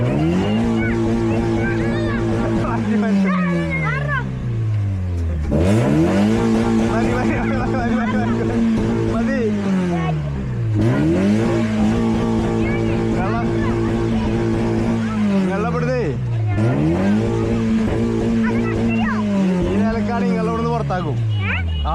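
A Honda Civic engine revs repeatedly in rising pulls, each climb dropping and surging again in a steady cycle, loud and close, with excited voices and crowd chatter underneath.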